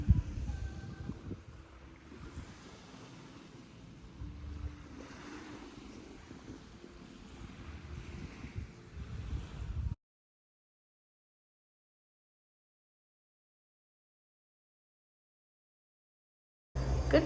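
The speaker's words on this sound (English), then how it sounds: "listening to the ocean right now" Ocean waves at a Bahamas beach resort make a steady, low rumbling wash mixed with wind noise for about ten seconds, then go silent, with a short burst of sound at the end.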